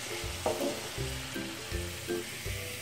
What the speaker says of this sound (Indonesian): Dan begitulah seterusnya untuk kita menggoreng buah nangkanya